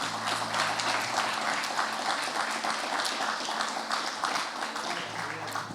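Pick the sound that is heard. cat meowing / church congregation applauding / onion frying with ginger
church congregation applauding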